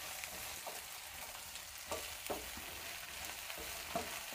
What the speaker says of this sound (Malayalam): ഇതൊന്ന് ചെറുതായിട്ടൊന്ന് നമുക്ക് വഴറ്റിയെടുക്കുക.